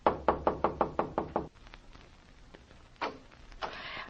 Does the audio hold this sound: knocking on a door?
yes